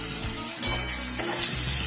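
Grated tomato hitting hot spiced oil for a Bengali mutton curry, a loud continuous sizzle with scraping stirs and a few low clunks of the spatula against the pan, no talking.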